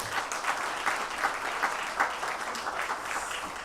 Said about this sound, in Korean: 우리 모두에게 우리 참여해 주신 모두에게 감사의 박수 하겠습니다